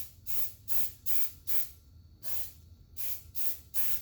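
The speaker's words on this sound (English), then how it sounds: "So putting some spray in my pan" Cooking spray sprayed into a small baking pan for Bulgarian Easter bread, a series of short hissing bursts, near and fairly quiet, about nine in a row with brief pauses between.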